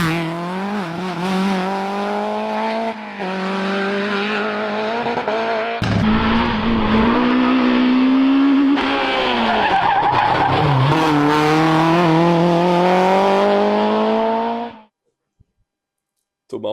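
A rally car drives hard and skids, its loud, steady engine note rising and falling with gear changes and tire squeal for about fifteen seconds before cutting off abruptly.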